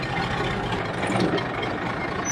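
A tractor engine runs steadily as a continuous low, rough rumble, loud and close, with no pauses across the clip.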